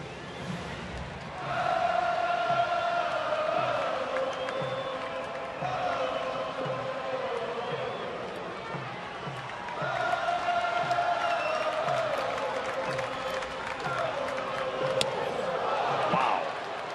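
A baseball stadium crowd of about twenty-six thousand on its feet cheering, a broad sustained roar that swells twice, under a play-by-play announcer talking throughout.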